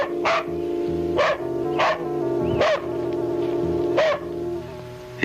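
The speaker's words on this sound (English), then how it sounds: "she was distracted by the incessant barking of her dog" A dog barks repeatedly in a small northern Washington town in late August, five or six sharp barks at a steady rhythm, close and loud over a continuous droning hum.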